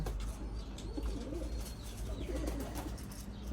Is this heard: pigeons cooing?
yes